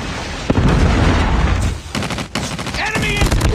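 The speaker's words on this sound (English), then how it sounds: "Predator missile inbound." A predator missile strike in Call of Duty Mobile lands with a loud boom amid rapid, dense gunfire. Sharp bursts of shooting continue after the blast, and a short radio-style voice cuts in near the end.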